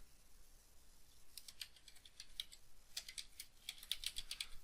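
Fingers type on a computer keyboard in quick, uneven bursts of light clicks, close and quiet over a soft background hiss, growing denser toward the end.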